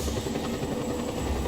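A video game helicopter armed with guns hums with a continuous low rotor drone, close and steady, with no talk over it.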